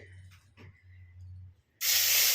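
Garlic and slit green chillies dropped into hot oil for chicken Manchurian burst into a sudden, loud, steady sizzle that follows a quieter stretch with a low hum.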